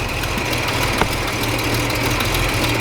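An old, tired Holden 202 six-cylinder engine idling in a ute, a steady low rumbling drone with slight knocking and vibration, close by and continuous, with no voices.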